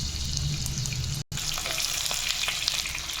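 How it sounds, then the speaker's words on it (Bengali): Whole spices are dropped into hot mustard oil for green jackfruit curry, bursting into a loud close sizzle and crackle that breaks off for a moment and then resumes steadily. "সরষের তেল গরম করে নিয়ে ফোড়নগুলো দিয়ে দিলাম।"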